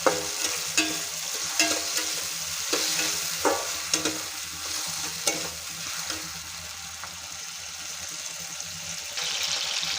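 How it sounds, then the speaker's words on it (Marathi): Tomatoes sautéing in a pan for a traditional Bhogi vegetable dish, a steady broadband sizzle with repeated scraping stir strokes and occasional spoon clinks throughout, close and alone without speech. "तर यामध्ये आपल्याला घालायचा आहे टोमॅटो थोडं छान परतवून घ्यायचं"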